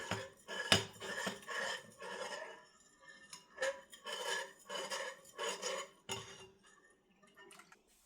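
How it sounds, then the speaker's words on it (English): A utensil scraping and stirring a mixture in a pot until smooth, rhythmic rasping strokes with occasional metallic clinks against the pot, fairly quiet and close. "we're going to stir this until it's nice and smooth and lump free"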